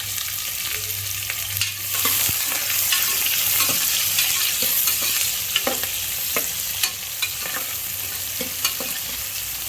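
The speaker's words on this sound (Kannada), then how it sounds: "1 ಸ್ಪೂನ್ ಜೀರಿಗೆ, ಅರ್ಧ ಸ್ಪೂನು ಸಾಸಿವೆ ಹಾಕೊಂಡು ಕಟ್ ಮಾಡ್ಕೊಂಡಿರುವಂಥ ಈರುಳ್ಳಿನ ಹಾಕೋಬೇಕು." Chopped onion frying in oil with cumin and mustard seeds, a close steady sizzle punctuated by sharp pops and occasional spoon scrapes against the pan, without any voices.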